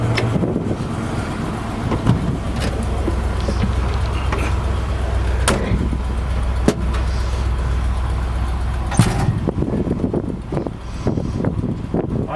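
A restored 1956 Ford F100 pickup with a three-on-the-tree manual, disc brakes and power steering runs steadily, its low engine drone continuous throughout with wind buffeting the mic and a few sharp knocks and clicks.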